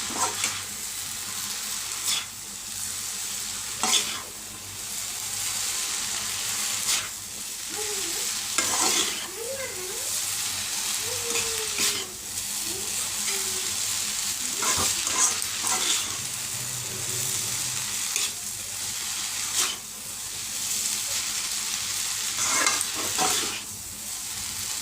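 Chowmein is stirred and fried in a pan, with repeated scraping strokes from a utensil over a continuous close sizzle, coming in irregular bursts.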